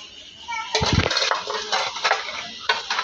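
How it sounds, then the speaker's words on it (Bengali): Small ichha fish (tiny shrimp) being rinsed in water for a home-cooked meal, with close splashing and sloshing in a few uneven bursts, a louder swish early on and lighter clinks and trickles after. "তো আস্তে আস্তে মাছটি ধুয়ে নিতেছি।"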